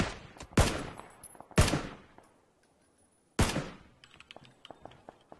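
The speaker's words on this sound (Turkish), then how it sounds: "Murat'a vuruyorlar." Gunfire in the PUBG video game: three sharp, loud shots spaced about a second or more apart, each with a decaying tail, followed by fainter scattered cracks.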